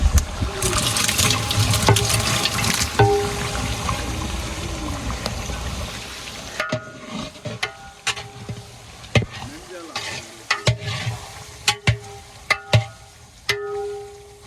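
Mixed masala poured into a large degh pot of village-style chana pulao, a loud hiss and sizzle that settles into softer bubbling with scattered stirring clinks and knocks.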